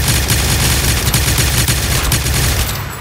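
Loud, dense automatic gunfire from guns in a modded Minecraft hunger games match, a relentless close-range barrage of rapid shots that eases off slightly at the very end, with no speech over it.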